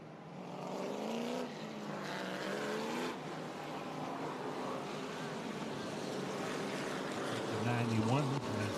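Stock race cars at Auburndale Speedway roar through turns three and four during a charity weekend race, a continuous droning engine wash with rising and falling pitch as they pass, under an announcer's commentary.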